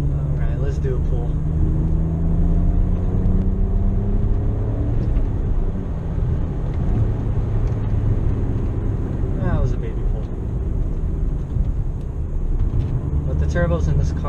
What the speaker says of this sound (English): Turbos in this car spool up pretty quickly.